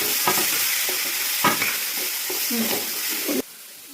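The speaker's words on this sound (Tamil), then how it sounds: "தக்காளி போட்டு நல்லா வதக்கிறேன்" Tomatoes sautéed with onions in a pan crackle in a dense, continuous sizzle with repeated stirring scrapes, cutting off abruptly just before the end.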